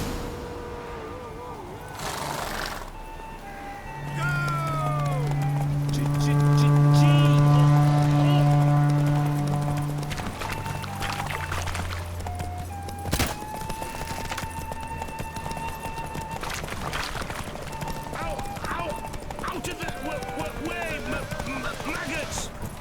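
Roach the horse galloping in The Witcher 3, rhythmic hoofbeats pounding continuously on the ground, with music and a voice talking over the ride.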